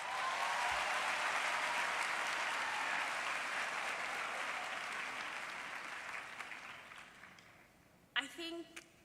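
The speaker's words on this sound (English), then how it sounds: "One last time, let's clap for ourselves." Sustained audience applause at a university graduation ceremony in a large hall, a dense wash of clapping that gradually fades, ending with a brief voice.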